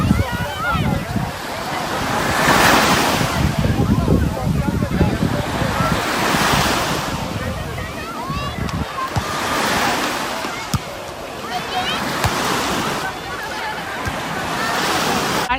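Sea waves breaking on the crowded beach at Çevlik, loud rolling surges that rise and fall every few seconds, mixed with wind buffeting and a murmur of people in the background.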